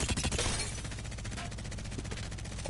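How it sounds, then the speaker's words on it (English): Rapid automatic gunfire aimed at a training dummy in Apex Legends, a dense burst of shots loudest at the start and continuing steadily for a few seconds. "Let me shoot the dummy."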